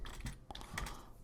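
Keys clatter on a computer keyboard in a quick run of soft, irregular taps, faint and close, with no speech over them.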